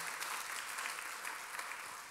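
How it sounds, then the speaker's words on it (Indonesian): A church congregation claps in sustained, even applause at a moderate distance, a dense wash of hands with no single voice standing out. "Boleh tepuk tangannya yang paling meriah buat Yesus Tuhan kita."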